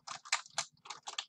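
Fingers type a teacher's name on a computer keyboard, a short quick run of crisp, close keystrokes in small bursts, with no talking.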